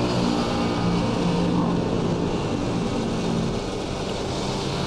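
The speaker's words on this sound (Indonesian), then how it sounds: "Bisa didengar ya teman-teman nih untuk suara knalpotnya nyaring, cukup nyaring lumayan ya, apalagi lagi dibejek gasnya" Kawasaki Ninja RR two-stroke fitted with an R9 Neo Mugello Carbon racing exhaust, a loud, steady, raspy engine drone that holds close and continuous throughout with no talking.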